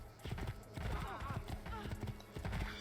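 Horse hooves clip-clop steadily in Assassin's Creed 2, a rhythmic series of close, clear hoof beats with an occasional whinny, heard under someone talking throughout.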